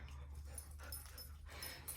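A dog whimpers softly near someone exercising at home, faint short whines and yips over a low steady hum in a quiet room.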